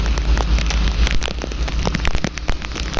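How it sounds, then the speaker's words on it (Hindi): Heavy rain pours down continuously, a dense, loud patter with scattered louder drops and a low rumbling undertone. "ये एक बार बारिश बहुत तेज़ शुरू हो गई है"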